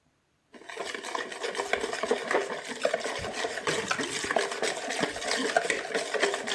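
Tikka masala marinade stirred and mixed in a bowl: a steady, close wet squelching and scraping that starts abruptly after a brief silence and continues evenly throughout.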